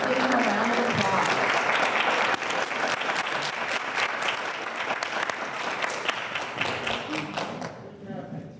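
Loud, sustained audience applause at a student speech competition, dense clapping from a large crowd filling the whole stretch before thinning out near the end.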